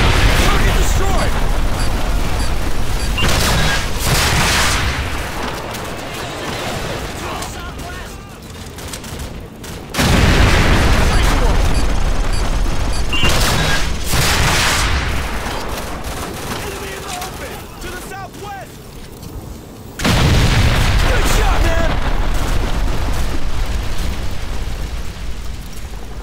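Heavy gunfire and explosions in Call of Duty 4: Modern Warfare, with dense loud automatic fire and booming blasts that swell and cut off in waves, over a busy battlefield background.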